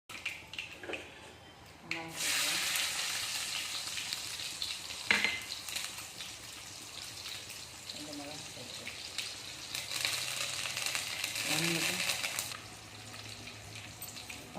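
Steady sizzling of spices, including fenugreek, tempering in hot oil, with occasional stirring scrapes and brief clatter, close by, while someone speaks intermittently over it.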